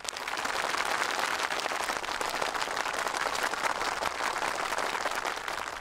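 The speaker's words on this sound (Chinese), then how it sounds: "掌声说明你说的不错" A crowd of soldiers applauds steadily at a gathering in a Chinese war drama about the Battle of Yangdezhi, dense continuous clapping holding at an even level for about six seconds with no voices over it.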